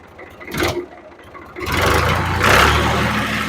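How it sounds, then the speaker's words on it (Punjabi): An old-model Ghazi 480 tractor engine is started and revved. A short cranking burst comes first, then the engine roars up and holds a loud, steady, rumbling rev close by. "ਇਹਨੂੰ ਸੈਲਫ ਮਾਰ ਕੇ ਚੈੱਕ ਕਰਾ ਦਿੰਦੇ ਆ ਕਿ ਇਹਦੇ ਇੰਜਨ ਦਾ ਕੀ ਸਾਊਂਡ ਆ"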